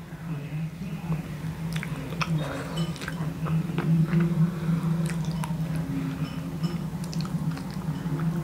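Close, wet biting and chewing on hard cooked meat with tough bone and softened skin, with repeated crunches and squishy mastication over a steady low background.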